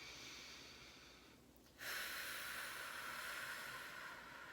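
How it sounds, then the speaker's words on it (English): A long, steady inhaled breath, close and hissing, swelling louder partway through and holding at a breathy rush. "Breathe in."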